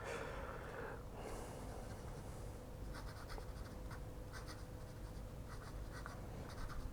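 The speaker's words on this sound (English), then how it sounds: "my writing now, not the best writing, but fast writing, the feed seems to be able to keep up" Fountain pen scratching quickly across paper in fast handwriting, a faint, steady, close scritching with small rhythmic strokes and a low background hiss.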